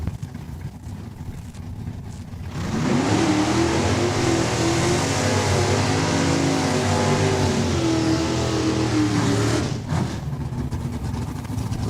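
A Cutlass and a Camaro drag race down the quarter mile at Saskatchewan International Raceway, a loud engine roar that swells suddenly, holds with rising tone for several seconds, then cuts off abruptly.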